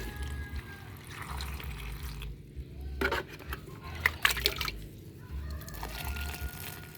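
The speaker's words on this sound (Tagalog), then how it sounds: "Lagyan muna natin ng tubig mga idol." Water pours and trickles into a cooking pot for boiling saba bananas over a low, steady background hum, with a few clinks and splashes partway through.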